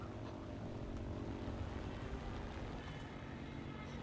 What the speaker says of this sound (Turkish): bir ştuka geliyor